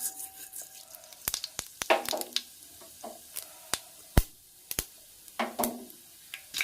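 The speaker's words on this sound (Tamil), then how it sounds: "கடுகு பொரிஞ்சிச்சு." Mustard seeds and fennel sputtering in hot oil for tomato rice, with sharp scattered pops and crackles over a soft sizzle, close up.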